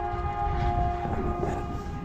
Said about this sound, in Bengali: এই যে ট্রেনের আওয়াজটা শুনলে